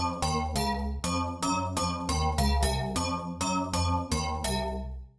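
Synth Pillar, a house synth preset from a bass house and tech house sample pack, plays punchy chord stabs in a bouncy rhythm over a heavy low end, loud and alone, ending with a decaying tail.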